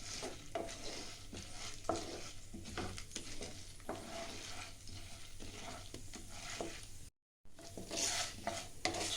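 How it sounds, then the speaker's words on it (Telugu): Chana dal and urad dal fry on a low flame, a soft, steady crackle and sizzle broken by repeated stirring scrapes in the pan, with a brief gap near the end. "పచ్చిశనగపప్పు, మినపప్పు వేసానండి. లో ఫ్లేమ్ మీద ఫ్రై చేసుకుంటున్నాను."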